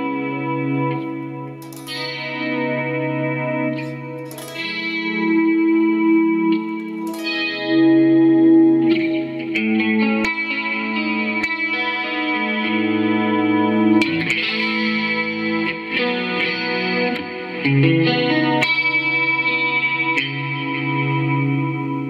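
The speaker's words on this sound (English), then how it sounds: "it's basically a clean DSL, Marshall DSL, for a 2x12, but I've added lots of compression, a huge delay and reverb," Clean electric guitar through a Marshall Code 50 modeling a clean Marshall DSL 2x12, with heavy compression, huge delay, reverb and chorus, playing sustained chiming notes and chords that ring and echo continuously, alone without talk.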